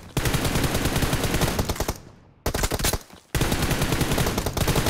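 Rapid automatic gunfire in the mobile game PUBG Mobile, heard as dense, loud shots broken by two brief pauses, ending in a headshot, close and continuous with no speech.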